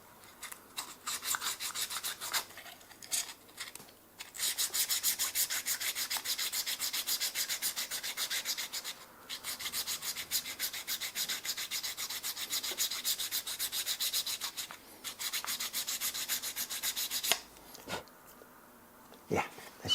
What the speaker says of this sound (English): I usually have a small piece of wood and just put it like this, and on the side here, and just grind it a little bit